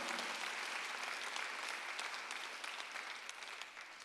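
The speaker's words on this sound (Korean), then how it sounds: "박수 한번 하세요." A church congregation breaks into steady, dense applause during a Sunday worship service, the clapping sustained and fairly even throughout, filling the room with no voices standing out.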